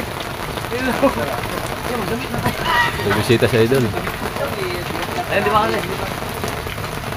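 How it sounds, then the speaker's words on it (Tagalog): Rain falling steadily and fairly loudly on surfaces, a constant hiss of drops under lively Tagalog conversation between several people. "Nakabot yung ulan."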